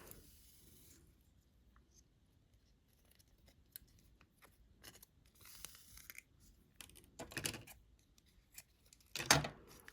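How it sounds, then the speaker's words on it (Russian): Quiet, close scissors snipping fabric, a scatter of short cuts with soft rustling between, ending in a couple of louder snips; no talking. "Так, ножницы зацепились."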